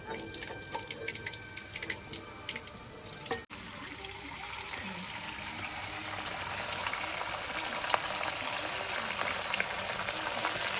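Chicken pakoras deep-fry in oil with a constant bubbling hiss. After a brief clatter, the hiss swells louder and denser and carries on steadily to the end.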